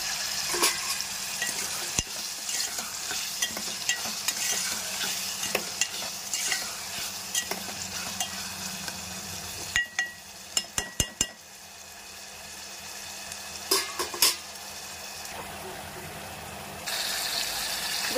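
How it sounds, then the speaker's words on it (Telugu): Spatula scraping and stirring through okra, egg, onion and tomato curry in a pan, with a steady sizzle of frying underneath and a few sharp knocks of the utensil against the pan. "మనము ఒక 2 మినిట్స్ ఇలా కలుపుకోవాలండి"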